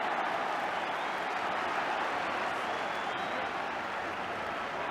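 Football crowd at Leicester City v Liverpool cheering as Kenny Dalglish makes a warm-up run along the touchline, a steady, dense roar of cheers and clapping sustained throughout, broad and distant-sounding with no distinct voices.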